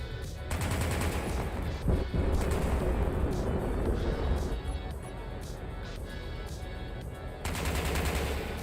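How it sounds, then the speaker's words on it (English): Sustained loud video-game gunfire from Empyrion Galactic Survival, rapid overlapping bursts like machine guns and artillery, running nearly continuously with brief lulls and a heavy resurgence near the end. "Something's trying to fire at me."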